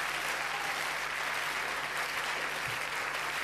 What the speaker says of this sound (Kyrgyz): кол чабуулар сизге